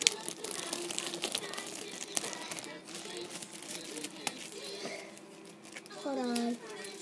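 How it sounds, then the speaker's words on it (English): A plastic bag crinkles and rustles close up as it is opened during a toy unboxing, with a voice speaking over it. "It's a plastic bag."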